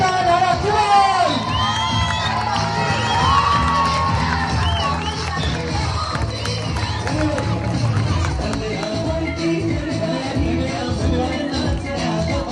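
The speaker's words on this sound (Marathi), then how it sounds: "जोरदार टाळ्या" An audience at an anniversary celebration event in Kelus Kalvi cheers and shouts in a loud, continuous crowd roar. Excited voices and whoops carry throughout, and no clear clapping stands out.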